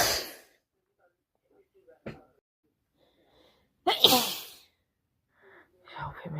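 A person with hay fever sneezes hard twice, each sneeze preceded by a sharp gasping intake of breath, close to the mic in a quiet room, with soft breathing and faint sounds between.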